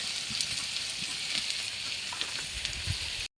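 Ginger-garlic paste, boiled potatoes, salt and turmeric go into a pan of onions already fried red, giving a steady, close, crackling sizzle of frying oil throughout, with no voices.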